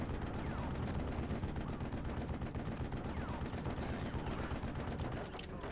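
Machine guns fire in Steel Division: Normandy 44 amid hedgerow fighting, dense rapid bursts of gunfire rattling continuously over a rumbling battle din, tapering slightly at the end.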